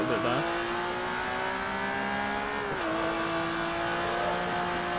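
A race car engine in the video game Forza Motorsport 3 drones steadily at high revs, with a brief tire squeal and a drop in pitch as it shifts gear midway.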